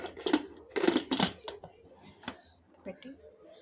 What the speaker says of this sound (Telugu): చేసి మూత పెట్టేద్దాం.